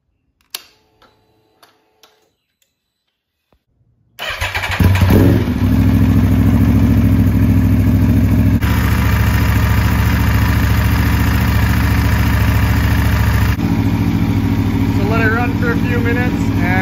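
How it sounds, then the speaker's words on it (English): An Aprilia RSV4 motorcycle engine turns over after a few clicks and catches, then settles into a loud, close, steady idle with a throbbing rumble, with faint talk near the end. "All right, oil's in it. Let's start her up."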